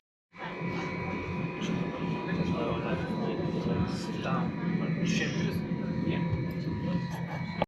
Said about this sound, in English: Here's the red train. Just rolled in from that side.